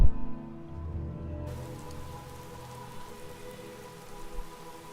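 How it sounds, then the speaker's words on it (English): Steady rain falls in the game Skyrim, a dense continuous patter heard alone at moderate level, with a low rumbling bed beneath and no talk. "it's raining right now"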